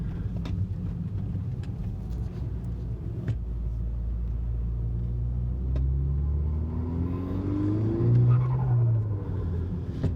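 A car engine rumbles low and steady while driving, swelling as it accelerates midway and peaking near the end, with no talk over it.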